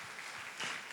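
A church congregation at a Sunday service claps together to give thanks to God, a soft, fairly distant patter of many hands that swells briefly toward the end.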